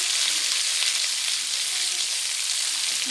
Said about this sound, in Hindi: अभी मैं इसको थोड़ा सा और भूनूंगी लहसुन अदरक के साथ